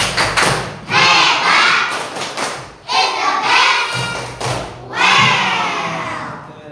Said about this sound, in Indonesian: Tepuk hebat.